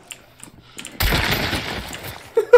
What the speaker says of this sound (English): Keep shoot, dude, keep shooting over there.